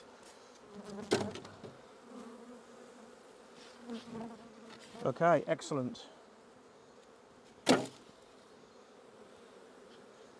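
Insect buzzing from bees hums low through the clip, with a few louder bursts as insects pass close, and a person speaks briefly.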